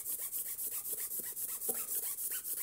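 An acorn is ground by hand against a rough surface, giving a steady rhythmic rasping rub, about five strokes per second, close and fairly quiet.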